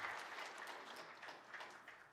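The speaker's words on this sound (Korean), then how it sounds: "하나님께 영광의 박수 올려드리겠습니다." A church congregation at a Sunday worship service claps together, a soft, dense patter of many hands heard from a distance and lasting only a couple of seconds.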